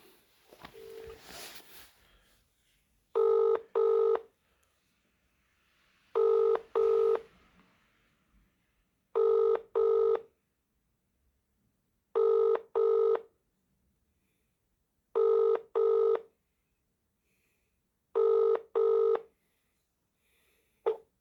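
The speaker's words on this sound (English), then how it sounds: "Ringing up Christopher Browell." Six pairs of electronic beeps sound at a slow, regular pace after a short burst of noise, a mobile phone ringing tone on the line.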